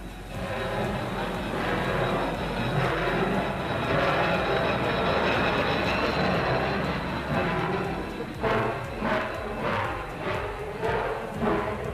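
A powerful diesel locomotive used by the wartime Persian Gulf Command on the Iran-to-Russia route rumbles loudly and steadily along the rails, then a rhythmic clacking of wheels over rail joints emerges toward the end.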